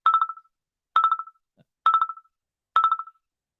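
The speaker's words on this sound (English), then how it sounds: "We have a phone call." An incoming phone call on a live call-in podcast rings in four evenly spaced electronic trills, each a short burst of rapid tones, clear and loud with silence between them.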